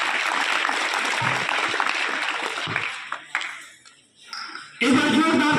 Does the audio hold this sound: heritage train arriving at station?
no